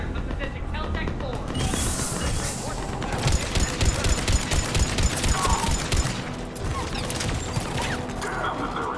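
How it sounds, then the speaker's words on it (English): Sci-fi gunfire in the Mass Effect video game, a steady run of rapid shots and impacts in a dense battle mix, with a voice talking over part of it. "Taking enemy fire."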